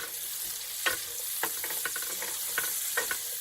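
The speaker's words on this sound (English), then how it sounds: "I am going to fry these onions until they're just translucent before adding anything else." Onions and minced garlic frying in a pan give a steady, moderate sizzle, broken by scattered sharp clicks and scrapes of a utensil stirring them.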